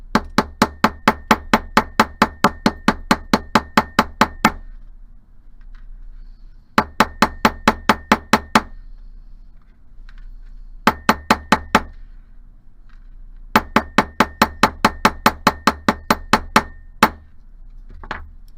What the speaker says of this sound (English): And I'm just going to hammer this flat.